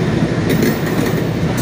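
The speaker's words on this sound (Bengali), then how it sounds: "ট্রেন ঢুকছে" A train rolling in on a suburban rail line near Howrah, heard as a steady, loud rumble of wheels and carriages with faint clatter throughout.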